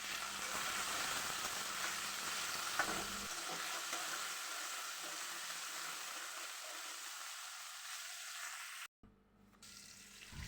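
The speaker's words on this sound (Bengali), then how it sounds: "তো এখানে আমি আলু আর পেঁয়াজগুলোকে একটু ভালো করে ভেজে নেব।" Potatoes, onions and chopped tomato fry in a pan with a soft, steady hiss of oil, fairly faint and continuous, briefly interrupted near the end.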